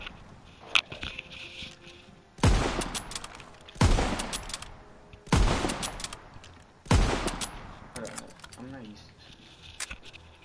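Heavy bursts from a video game gun boom out in four evenly spaced, loud volleys, each decaying into a rumbling tail, with lighter clicks and a voice between them.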